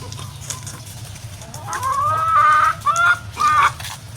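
Chickens cluck close by, a run of loud, drawn-out squawking clucks in the last couple of seconds after softer scattered sounds, over a low background rumble, with no talking.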